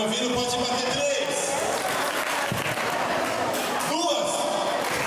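A crowd at a teachers' tribute event breaks into applause, a dense burst of hand clapping that swells and fades across the clip, mixed with a voice over a microphone.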